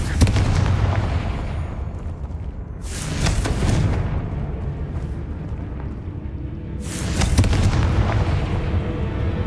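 Confringo fire spell from Hogwarts Legacy erupting in heavy booming blasts, with two bright bursts about four seconds apart over a dense, rumbling low roar that continues throughout.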